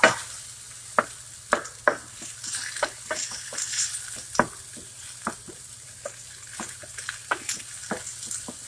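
Shallots sautéing in a pan with a soft, steady sizzle, broken by scattered sharp clicks and scrapes of stirring, close and fairly quiet with no talking.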